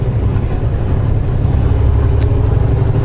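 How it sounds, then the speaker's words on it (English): Truck engine with a manual transmission droning steadily as it drives, a continuous low rumble with road noise throughout, no talk heard. "I really wish this truck was an automatic."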